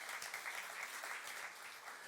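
A church congregation at a youth service claps together in a brief, dense burst of applause lasting about two seconds, fairly soft and heard without speech.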